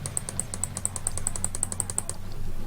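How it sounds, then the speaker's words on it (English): Fast computer keyboard typing with mouse clicks during a game session, a quick even run of close crisp taps that stops before the end, leaving a low hum. "There's just a lot of clicking and typing."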